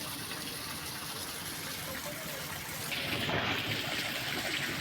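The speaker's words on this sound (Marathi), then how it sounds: "असं रस्त्यावर पाणी सारखंच चालू आहे इकडं पाणीच बंद होत नाही" Water runs constantly across a town road from an unstopped leak, a steady close rush and gush that swells a little louder partway through.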